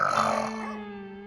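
A woman snores loudly at night in a residential housing society, one rasping, throaty snort that swells and then fades into a lingering low drone.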